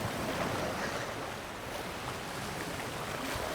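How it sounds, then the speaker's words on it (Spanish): Gentle waves wash over a fine sand beach at Tofta on Gotland's western coast under a calm sea, a soft, steady hiss of surf with no talking. "Las olas acarician la fina arena de las playas de Tofta."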